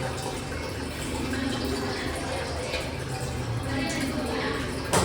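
Water running and splashing steadily into a small pressure cooker for cooking rice, a continuous close pouring hiss with a brief louder splash at the end, no voices.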